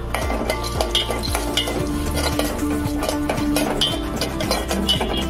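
Pumpkin and sunflower seeds frying in ghee over low flame, a busy run of rhythmic spoon-on-pan clinks and scrapes over a gentle sizzle, loud and close, no speech.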